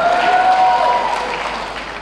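Applause from a crowd at a Nepali political rally, a steady dense clatter of many hands clapping nearby, sustained and slowly easing off, with no talk over it.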